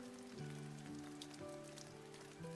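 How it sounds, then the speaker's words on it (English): Steady rain pours down in the video game Nameless, a continuous hiss of drops on surfaces, over a soft sustained tonal music bed, with no speech. "cold rain was still pouring down on him"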